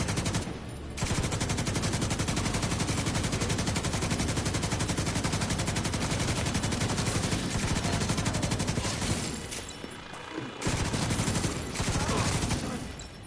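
Sustained automatic gunfire in The Division 2, a loud rapid burst lasting many seconds with a brief pause before firing resumes, a voice faintly underneath.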